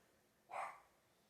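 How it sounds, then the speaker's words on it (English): A dog gives a single bark or yip in the background of a room during a Beyblade unboxing, one short faint burst standing out from quiet. "My dog is going crazy right now"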